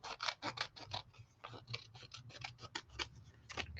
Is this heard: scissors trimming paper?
yes